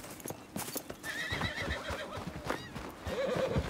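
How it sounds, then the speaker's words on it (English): Horse in the Red Dead Redemption 2 video game whinnies and screams loudly and shrilly, mixed with hoof clip-clops and movement throughout, with no talking. "this horse is screaming"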